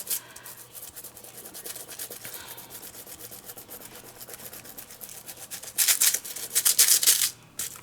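Fingernails rub over a foil sheet laid on sticky embossing powder, a soft close scratchy rubbing that turns into a louder, brighter crinkly scraping burst near the end, with no talk.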